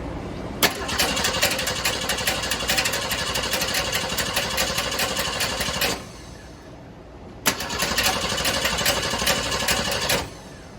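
A 1966 Ford Mustang coupe engine cranks over on the starter in two long bursts, a steady, loud churning grind of about five seconds each with a short pause between, no voices.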